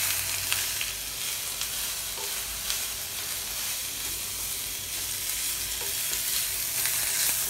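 Butter rice fries in a hot pan with a dense, continuous sizzle, while a spoon stirring it adds soft scraping and occasional clicks close by.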